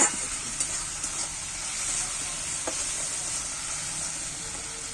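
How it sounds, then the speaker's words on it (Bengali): Vegetables seasoned with salt and soy sauce sizzle in a pan while being stirred, a steady bright frying hiss with a few soft scrapes and taps of the spoon, close and continuous with no talk. "এইবার আমি সবটা নেড়ে চেড়ে নিচ্ছি"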